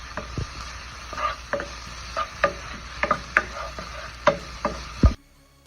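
Something sautés in olive oil in a pan with a low, steady sizzle. Regular utensil scrapes and taps mark the stirring, and it ends with a louder knock before the sound cuts off.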